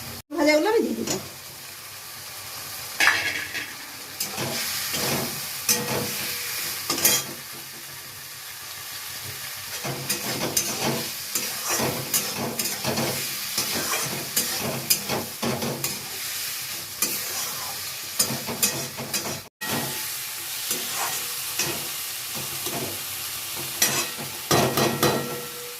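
Fried pointed gourd pieces sizzle and hiss in hot oil while being stir-fried for a Bengali-style curry, with repeated scraping and stirring strokes of a spatula against the pan close by.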